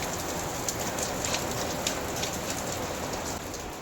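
Heavy rain falls outside in a steady, dense downpour, a continuous hiss with scattered louder drops, close and fairly loud throughout with no talk.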